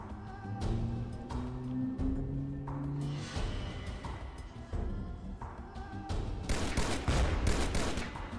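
Sustained gunfire from the video game XPiratez, dense overlapping shots and bursts rattling continuously and loudly, with intensity rising toward the end.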